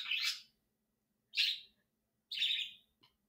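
Birds chirp loudly in the morning in three separate bright, high calls, each about half a second long and close by, with quiet gaps between them.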